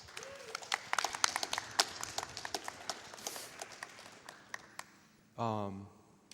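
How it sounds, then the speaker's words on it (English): Audience applause at a Summer Games Done Quick speedrun event, a run of sharp, distinct claps that builds and thins over several seconds, ending with a brief voice. "Can we get a round of applause?"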